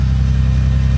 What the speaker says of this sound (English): You can tell a lot about a car by hearing the cold start